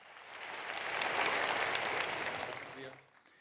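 Applause rises from an audience at a formal Pakistani government event as a speaker is welcomed onto the stage. Broad clapping swells, holds steady, then fades away toward the end.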